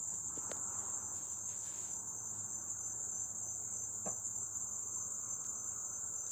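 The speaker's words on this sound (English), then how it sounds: "Can you hear the high pitch of the insects?" Insects outdoors on a still, breezeless day keep up a steady, shrill high-pitched chirring throughout, with a few faint distant knocks underneath and no talking.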